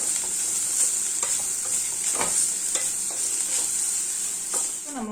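Grated coconut dry-roasts in a kadai with a steady sizzling hiss, broken by repeated scraping stirs of a spatula against the pan, close and continuous, without talk.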